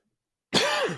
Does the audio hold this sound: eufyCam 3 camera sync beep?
no